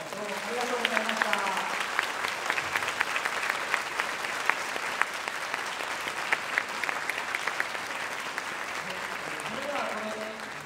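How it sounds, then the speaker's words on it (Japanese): A high-school concert audience in a museum atrium claps for about ten seconds, a steady even round of applause at moderate distance, with a voice briefly heard at the start and end. "大きな拍手をお送りください。"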